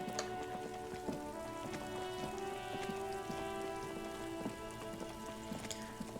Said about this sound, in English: Raining.